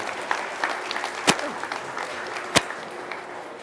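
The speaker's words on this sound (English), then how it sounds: "Let's give these exhibitors a big round of applause." Scattered, moderately distant hand clapping from an audience at a fair's breeding and market goat show, thin and uneven, with two sharp louder claps standing out, and no talk over it.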